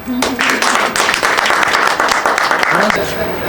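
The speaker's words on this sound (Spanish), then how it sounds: "Yo creo que debemos darle un aplauso a él." Audience clapping at an anti-drug community event, a steady dense round of applause under a speaking voice throughout.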